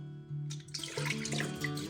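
Water poured into a pot for coconut rice and beans, a steady close splashing stream starting partway in and running to the end, with no talk.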